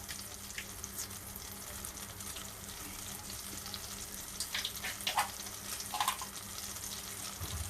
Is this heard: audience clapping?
no